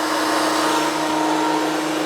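A Makita 2012NB thickness planer runs while planing a wide wooden board, giving a loud, steady, high-pitched motor whine with a constant hum and no pauses.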